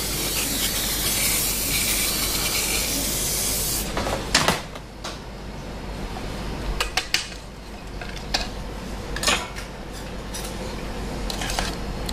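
Butter cooking spray from a can misted over a baking sheet, a loud continuous hiss for several seconds, followed by clinks and clatters of metal trays and utensils nearby.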